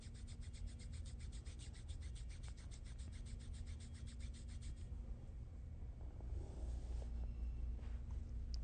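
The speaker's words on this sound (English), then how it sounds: "remove the backing and rub over top of the tape." Fingers rub firmly back and forth over kinesiology tape just laid on the outer thigh for a knee application, a soft, steady, close scratchy friction that continues for several seconds with no talk.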